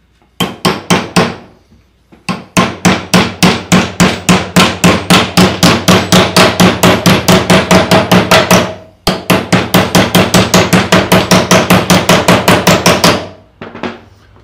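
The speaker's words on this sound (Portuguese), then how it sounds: "tô fazendo com um martelinho pequeno" A small hammer strikes a metal bar being bent into an angle, delivering loud rapid rhythmic blows in long runs with a couple of short pauses between bursts.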